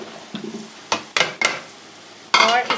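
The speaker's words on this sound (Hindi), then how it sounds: "अब हम थोड़ा सा भून लेंगे, मिक्स कर लेते हैं इसको घिया को" Bottle gourd (ghiya) frying in masala in a pan: a few bursts of stirring, with spoon scrapes against the pan and brief sizzle, separated by quiet gaps.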